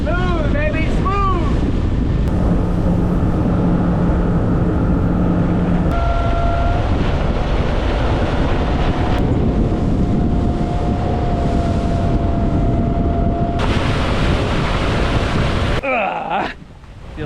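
A boat engine roars steadily at speed down a Florida channel with heavy wind buffeting the microphone and rushing water, continuous and loud throughout, with a brief whistle-like pitch sweep near the start.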